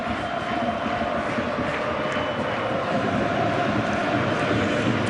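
A football stadium crowd at a Lyon versus Saint-Étienne league match whistles at a player, a continuous broad roar of whistling and jeering that holds steady and loud throughout.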